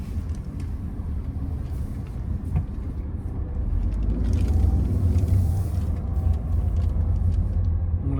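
Interior road noise from a Tata Tigor car driving over a rough, bad road, a steady low rumble and drone that swells slightly midway, with no talk.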